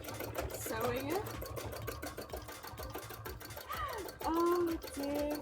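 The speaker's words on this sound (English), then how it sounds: "And then just keep sewing it." A sewing machine stitching a bra runs as a steady, rapid mechanical whir. A voice talks over it the whole time.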